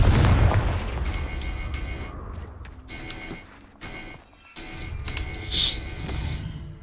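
Spell explosions from the Bombarda and Confringo charms in Hogwarts Legacy: a heavy, booming blast up front, then scattered sharper cracks and rumbling bursts fading in and out over a steady game background.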